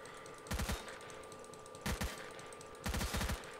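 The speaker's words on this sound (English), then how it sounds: "They keep shooting out there." Distant automatic gunfire in STALKER: Call of Pripyat comes in three short rattling bursts of several rapid shots each, separated by quiet ambient hum.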